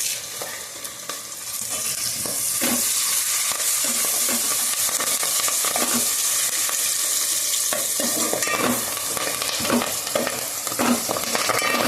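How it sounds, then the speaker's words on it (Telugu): Brinjal and yam pieces fry in a pan for kanda brinjal pulusu, with a loud continuous sizzle broken by repeated scraping and stirring knocks of a spatula, and no one talking. "మరి ఈ విధంగా వేగుతూ ఉంటుండగా మరి వంకాయ ముక్కలు కంద అన్ని కలిపేసి వేస్తున్నారండి"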